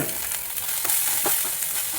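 Dried prawns fry in coconut oil in a Kerala-style pan, a steady close hiss and crackle broken by occasional stirring scrapes.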